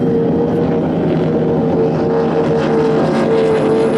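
Offshore powerboats accelerate off the start line of the 2015 Cowes–Torquay race, their engines making a loud, continuous droning roar that holds steady throughout with no voices.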